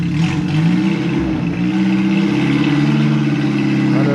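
A Chevette car, driving under its own power for the first time, rumbles and revs nearby with a steady mid-low engine tone that rises slightly, with faint voices in the background.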